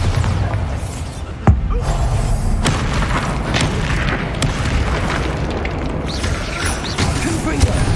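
Bombarda blasting spell explosions in Hogwarts Legacy land as loud, dense booms and bursts, one sharp hit standing out over continuous rumbling combat noise.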